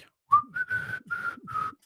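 A person whistles a short, clear tune of four or five sliding and held notes, close and fairly quiet, with no talk around it.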